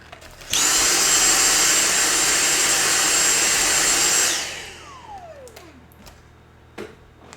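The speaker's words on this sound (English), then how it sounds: "I just ran the vacuum." A household vacuum cleaner runs loud and steady for about four seconds, then shuts off and winds down with a falling whine, leaving a quiet room with a few small knocks.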